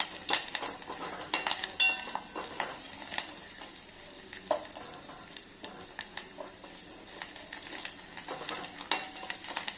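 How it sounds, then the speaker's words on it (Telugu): Crackling, spattering sizzle of tempering spices frying in hot oil, with intermittent clinks and scrapes of a spoon stirring the pan. "పోపు అయితే బాగా వేపైతే వేసేసుకున్నామండి."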